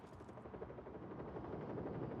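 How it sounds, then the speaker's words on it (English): A utility helicopter in the video game Just Cause 4 gives off a steady, faint rotor drone that grows slightly stronger over a couple of seconds. "Utility helicopter."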